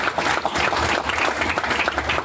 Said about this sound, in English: A big round of applause for all of our presenters tonight